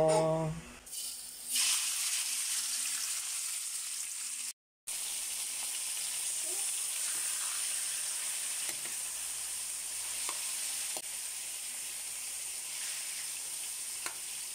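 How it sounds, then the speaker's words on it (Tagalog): Pork adobo sizzling steadily in a pan, a constant close hiss of frying with a few faint stirring knocks, a brief handling noise at the start and a short dropout partway through. "Haluin lang natin siya guys hanggang sa maluto."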